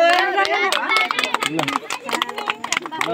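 A burst of scattered hand clapping from a small group breaks out amid lively voices, the claps quick and uneven.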